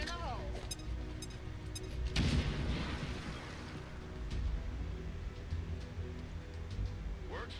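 A loud explosive blast in XCOM 2 booms out around the two-second mark, rumbling into a low crackling decay, with game ambience and a voice around it.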